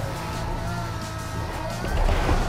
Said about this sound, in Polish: Słyszę jego silnik, mimo że nie chcę go specjalnie słyszeć.